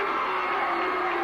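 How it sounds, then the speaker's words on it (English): A crowd cheers in a darkened gym at a 1982 Niles McKinley High School basketball game, a dense, steady roar of yelling and whooping with no break. "It is going to be an awfully loud crowd tonight, Cap."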